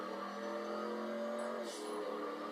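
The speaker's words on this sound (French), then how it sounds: "Nous revoilà sur notre piste préférée avec le Stig et ça commence dans 3, 2, 1, go" A race car in GTA V pulls away from the start line on a track, its engine droning steadily with layered harmonic tones throughout, fairly constant in level with no talking.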